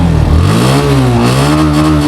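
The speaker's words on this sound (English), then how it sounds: "Exhaust note, although the exhaust is not in good shape, so this is not the original note." A Suzuki Intruder 150 motorcycle with a worn, damaged exhaust sounds its note while being ridden, a loud close engine drone that rises and dips in pitch as the throttle changes, with no talk.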